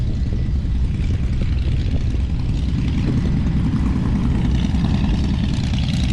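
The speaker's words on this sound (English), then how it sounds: "Here, we have a couple of Swifts taxiing out to leave." Propeller engines of a couple of Swift light airplanes taxiing out to leave, a loud, steady, close droning rumble that holds without a break, with no voices.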